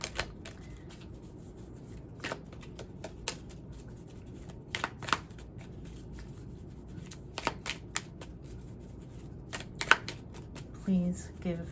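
Moonology oracle cards being shuffled by hand, a soft, quiet run of riffling and flicking taps, close by, with a voice talking throughout.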